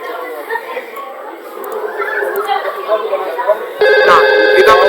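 A VoIP IP phone rings with an electronic tone that starts near the end, cutting in over ongoing chatter and talk in a room.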